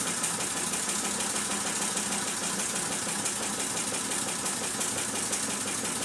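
A Mamod SP7 steam engine drives a Meccano warehouse model, producing a continuous, even mechanical churn with a faint rhythmic chuff and rattle, close and moderately loud.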